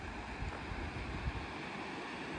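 The Spiti River rushes below Chicham Bridge in the Spiti Valley, a faint, continuous broadband roar heard from high above, mixed with light wind buffeting on the microphone.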